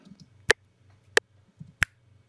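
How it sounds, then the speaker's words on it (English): Three sharp, close finger snaps fall at regular intervals on every other beat of a click track, with the soft low ticking of the click running beneath. "every other quarter note or every other beat of that click, I snap my fingers"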